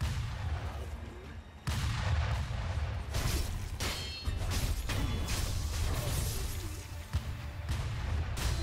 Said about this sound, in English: They're shooting their guns at me.